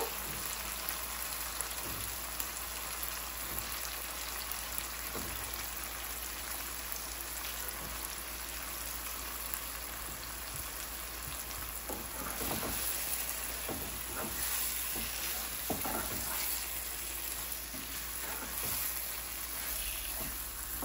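Baby chicken pieces frying in a spiced masala, a continuous soft sizzle and crackle with occasional louder pops, steady and close, growing somewhat busier partway through.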